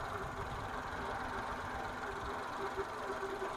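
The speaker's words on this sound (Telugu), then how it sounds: "ఇంజన్ కూడా చాలా స్మూత్గా ఉందండి." A Hyundai Eon Sports car engine idles smoothly, giving a low, even, faint hum that holds steady without surges or knocks.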